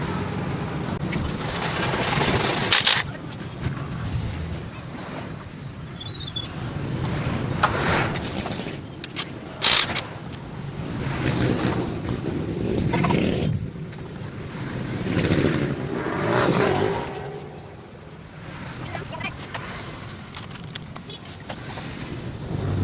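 A Honda Click 125 scooter with a worn, noisy torque drive bearing gives off an uneven mechanical whirring and rattling rumble, close and fairly quiet, with occasional knocks and clatters from the workshop.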